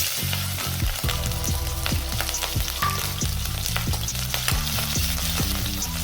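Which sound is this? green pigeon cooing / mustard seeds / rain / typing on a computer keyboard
mustard seeds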